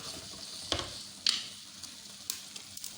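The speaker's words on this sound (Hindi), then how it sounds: "और मज़ीद से अच्छी तरह से भूनते हैं" Chicken filling sizzles steadily in a frying pan, with a constant hiss and a few sharp clicks and scrapes of stirring.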